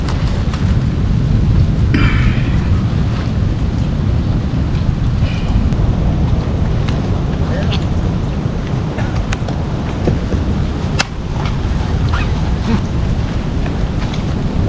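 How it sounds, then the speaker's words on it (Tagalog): Heavy rain pouring steadily outdoors during an adventure trip in Dilasag, a dense continuous hiss with wind noise buffeting the microphone and a few faint sharper knocks. "Ulan guys."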